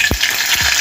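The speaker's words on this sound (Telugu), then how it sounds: "ఇప్పుడు ఆయిల్ కూడా వేడైందండి. 1 స్పూన్ వరకు ఆవాలు వేస్తున్నాను." Mustard seeds, about a spoonful, hit hot oil in a pan for tempering a tomato pickle, giving a steady bright sizzle with a couple of low thuds from the pan or spoon.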